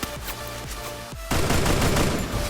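Gunfire in Garena Free Fire, heard as a dense burst of rapid shots filling the second half, preceded by quieter rhythmic game sounds; the shots come close and loud with no talk.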